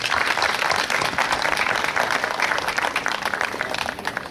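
An audience at a Hungarian village day opening ceremony applauds performers, a dense, loud wash of many hands clapping that carries on steadily throughout.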